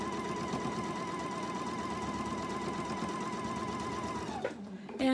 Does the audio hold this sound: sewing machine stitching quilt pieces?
yes